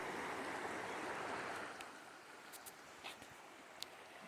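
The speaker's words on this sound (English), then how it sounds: "Just out here at the creek" Water rushes and burbles steadily, louder at first then settling into a softer flow, with a few light clicks and taps near the end.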